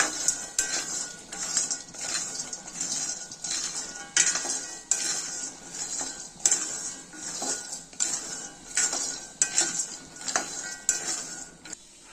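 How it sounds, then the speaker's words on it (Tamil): Dry fruits roasting in a pan on a slow flame, repeated clinks and scrapes of a metal spoon against the pan in an uneven stirring rhythm, close and fairly loud with no talking. "ட்ரை ஃப்ரூட் எல்லாம் 5 நிமிஷம் ஸ்லோ ஃப்ளேம்ல நல்லா ரோஸ்ட் பண்ணி எடுத்துக்கிட்டோம்"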